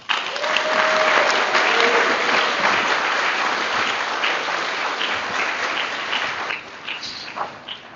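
A large audience at a commencement ceremony claps in sustained, dense applause that stays loud for several seconds, then thins out and tapers off, with a few faint voices mixed in.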